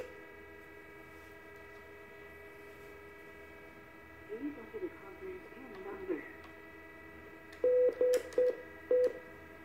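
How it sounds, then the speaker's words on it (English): A Cisco SPA office phone dials conference extension 700, with a steady dial tone, then a few soft key tones, then four distinct beeping tones in a quick series, heard clearly with no talk. "So in this scenario, we're going to dial 700"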